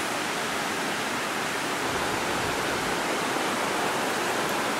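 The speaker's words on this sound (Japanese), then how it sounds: "こっちの銀河の滝は細い糸のように落ちてくる滝で綺麗なんですよね" The 120-metre Ginga Falls in Rubeshibe, Hokkaido, a thin waterfall dropping like fine threads, gives a steady, dense rush of falling water with no break and no voices over it.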